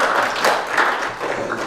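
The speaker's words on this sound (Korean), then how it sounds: "다시 한번 큰 박수로 감사를 전하겠습니다" A church congregation clapping in thanks, a short stretch of steady, fairly close applause from a gathered group.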